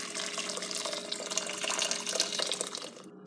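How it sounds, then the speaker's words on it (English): Boiling water pours into a vessel while iced tea is being made, a steady close splashing and gurgling stream that tapers off at the end, heard alone. "you want to add your boiling water"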